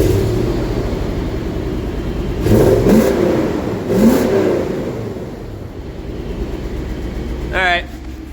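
V8 Toyota Sequoia with its engine idling loud and close, then two short throttle blips that swell and fall back, followed by a quick higher whine near the end; voices can be heard briefly.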